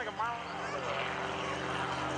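A propeller aerobatic plane flown by Gary Ward hangs in a vertical climb into a torque roll at the 2012 Greenwood Lake Airshow, its engine droning steadily in the distance while an announcer talks over it.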